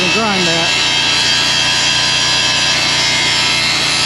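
A power tool grinds steadily on a steel pin from a Volvo 350E excavator, a loud, continuous harsh whine and rasp with a voice heard briefly at the start.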